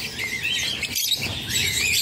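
Pet birds, including a Lutino, chirping inside a home aviary, with a dense, continuous stream of high, overlapping tweets and trills at moderate volume and no talking.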